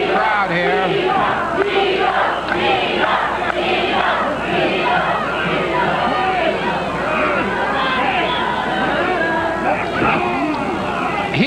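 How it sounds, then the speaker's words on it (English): A large crowd roars and chatters continuously in a 1985 Stampede Wrestling arena, a dense and loud wall of cheering and babble that holds steady throughout. "Very big crowd here."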